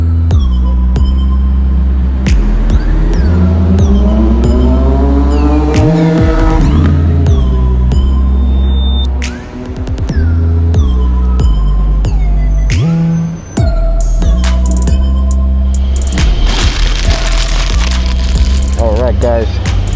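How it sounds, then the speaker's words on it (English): A Triumph Street Triple motorcycle on a highway, its loud close engine droning and rising through gears with strong wind rush, brief dips as the throttle eases, and surrounding traffic noise. "This is going to be a street triple highway ride."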